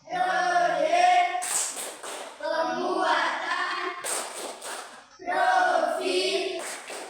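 Classroom children clap in time while chanting together in bursts, a group rhythm clap-chant repeated three times, loud and close, led by a teacher's voice in an Indonesian school lesson.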